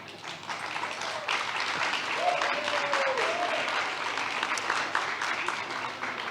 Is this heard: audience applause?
yes